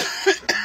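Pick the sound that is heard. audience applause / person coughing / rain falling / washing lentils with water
person coughing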